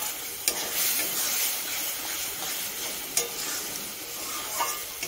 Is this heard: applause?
no